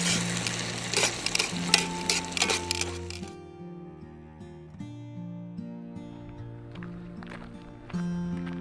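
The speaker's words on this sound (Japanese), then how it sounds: "じゃがいも、オクラ炒めたいと思います" Potatoes and okra stir-frying in a pan over a campfire at a rainy campsite, a steady sizzle with scraping stirs, loud at first and then settling into a quieter fry.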